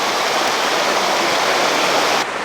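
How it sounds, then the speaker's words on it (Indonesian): Stream at the headwaters of the Saluopa waterfall rushing over rocks, a loud, steady, close broadband roar of flowing water that continues without a break throughout. "Ini adalah hulu dari air terjun Salopa."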